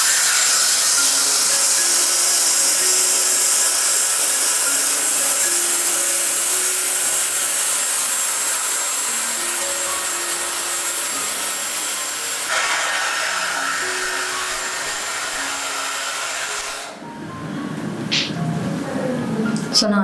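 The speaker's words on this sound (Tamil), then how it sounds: "இப்போ வந்து நம்ம ஹேர் ட்ரை பண்ண போகிறோம்" Dyson hair dryer on medium heat drying hair, a loud, steady airy roar held near for most of the stretch, with one shift in tone partway through, then cutting off to handling noise. A person talks over it.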